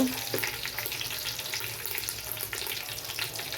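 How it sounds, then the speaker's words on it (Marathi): A ginger, garlic and coriander paste sautés with bay leaf, curry leaf and hing in a pan, giving a crackly, uneven sizzle with bursts of spattering and a few stirring scrapes. "आलं लसणाची कोथिंबीरची पेस्ट छान परतून घेऊ"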